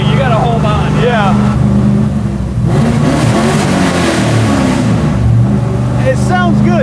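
A garage-built 1972 Plymouth Duster set up as a NASCAR-style car, its engine droning steadily and loud while driving, with pitch sweeps as it revs, under excited conversation from the occupants.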